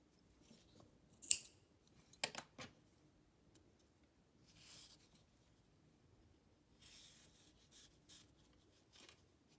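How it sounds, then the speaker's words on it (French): Scissors snip crochet yarn at close range, a few sharp cuts and light snipping clicks followed by soft rustling, quiet and with no talk. "On va couper une bonne longueur qu'on puisse le coudre aux cheveux."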